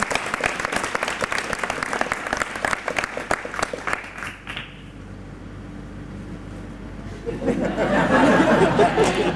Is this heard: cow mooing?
no